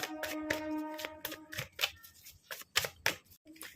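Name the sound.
shuffling tarot cards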